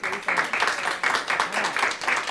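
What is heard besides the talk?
round of applause at a school spelling bee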